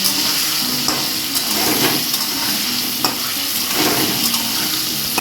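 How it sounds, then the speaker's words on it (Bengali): Potato pieces fry loudly in hot oil with salt and turmeric for a desi mutton curry, giving a steady, dense sizzle with occasional stirring scrapes throughout and no talking. "আলুটা নুন আর হলুদ দিয়ে লাল লাল করে ভেজে নেব।"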